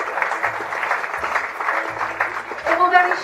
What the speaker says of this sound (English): let's give a huge round of applause as they leave the stage for our captain, his senior officers and the cabin